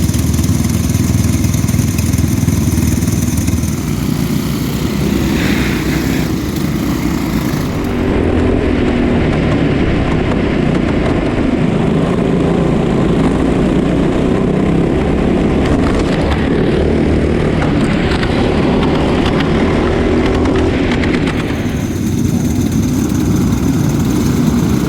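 Racing karts on a formation lap at the Whilton Mill kart track during the BKC Winter Cup buzz past in a loud, continuous drone of small engines, their pitch rising and falling as packs pass close by.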